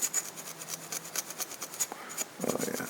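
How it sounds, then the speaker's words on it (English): Gray Scotch-Brite abrasive pad rubbed on a milled metal part, a quick series of rhythmic close scrubbing strokes, followed by a short clunk and louder handling at the end. "About a little bit of gray Scotch-Brite."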